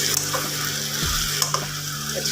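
Arvi (taro root) curry with onions fries in a pan, giving a steady close sizzle with a few scraping stirs of a spoon and light clinks scattered through it.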